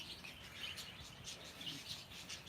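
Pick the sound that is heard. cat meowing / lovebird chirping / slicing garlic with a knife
lovebird chirping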